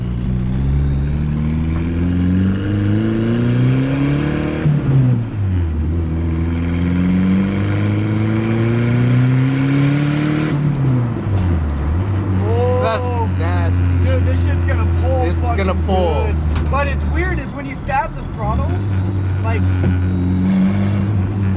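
A Nissan 240SX with a turbo KA24DET engine revs hard on a test drive, climbing in repeated rising pulls that drop away between gear changes. The engine is loud and close, and voices talk over it.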